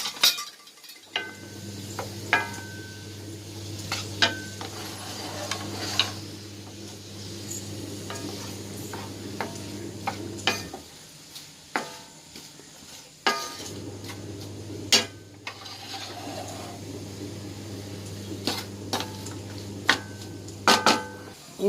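Onions sauté with salt in a pan for a country-chicken curry, a low steady sizzle broken by repeated clinks and scrapes of a metal spoon, with a short pause in the frying partway through.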